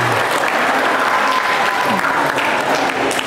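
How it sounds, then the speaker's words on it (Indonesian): Loud, sustained applause from a crowd, steady clapping throughout with a faint voice underneath. "Tepuk tangan yang meriah untuk kita semua."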